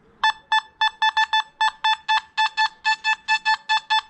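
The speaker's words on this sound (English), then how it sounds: "You hear that double beep as well?" Rapid electronic beeps from a Nokta Makro Simplex metal detector over a coin repeat in quick pairs and runs, loud and close, with short gaps between bursts and no talking.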